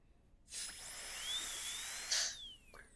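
A dental drill fitted with a 379-014 diamond burr whines steadily at a high pitch while reducing the lingual surface of a tooth, running continuously for about two seconds with a brief rising surge near the end and no talking.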